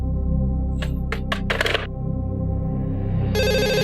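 A telephone rings with a bright, repeated electronic trill over a low background hum, preceded by a few short clicking taps.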